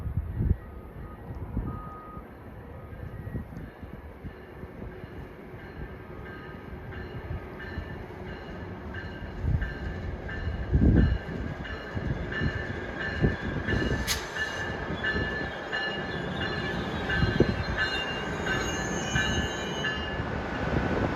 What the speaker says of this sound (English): here comes a Trenton-bound New Jersey Transit train